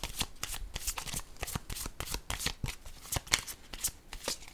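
Oracle cards are shuffled by hand during a card reading, giving a close, rapid run of papery riffling flicks that keeps a steady rhythm throughout.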